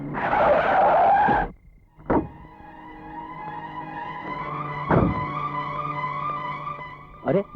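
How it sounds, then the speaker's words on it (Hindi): A car skids hard to a stop with a loud tire screech, followed by quieter mechanical clunks and a lingering tonal hum. "क्या बात है रघु, गाड़ी क्यों रोक दी?"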